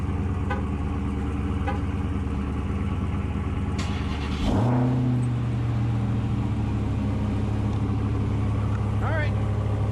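Several large Hemi V8 engines, including a Dodge Charger, Durango and Hellcat, idle with a deep steady rumble, one revving louder partway through and settling into a heavier drone; no clear talk is heard.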